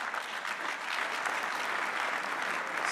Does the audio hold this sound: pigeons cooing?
no